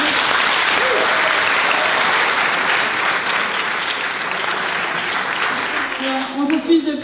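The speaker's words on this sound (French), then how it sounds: "Un grand applaudissement pour eux." Conference audience applauding two presenters after their short show, dense and loud continuous clapping that fades slightly near the end as voices start to come through.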